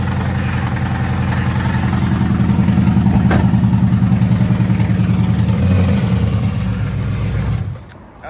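A Camaro SS bought at auction idles and is driven up, its V8 engine rumbling loudly and steadily up close for several seconds before cutting off abruptly near the end.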